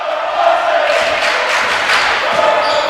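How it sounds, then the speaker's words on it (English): A home crowd at a women's college basketball playoff game between Eureka College and Spalding University roars loudly and continuously, a dense wash of cheering and shouting in an indoor gym. "The Red Devils crowd gonna let them hear it."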